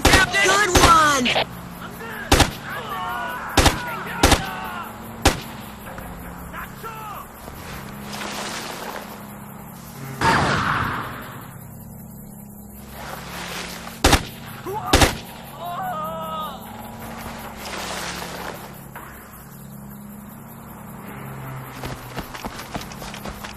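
Gunfire in the Xbox game Ghost Recon 2 on a train yard mission: sharp, loud single shots ring out at scattered moments, mixed with in-game voices calling to each other and patches of footsteps and rumble.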